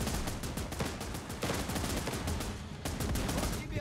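Gunfire in the video game Last Train Home: a dense, continuous crackle of rapid shots rolls on without pause for about four seconds, loud and close, with the volume steady throughout.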